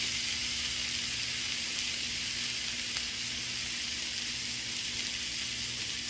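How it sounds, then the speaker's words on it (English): A seasoned chicken breast sizzles steadily in a smoking-hot cast iron pan, a dense, even hiss that holds without a break, close up and with no talking. "Ooh, sizzling."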